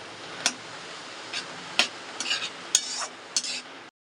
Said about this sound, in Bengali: যেটুক জল আছে একটু কড়াইয়ের মধ্যে নেড়ে নিচ্ছি যাতে বাকি জলটা একদম টেনে যায়